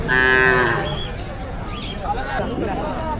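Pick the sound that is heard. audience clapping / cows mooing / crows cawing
cows mooing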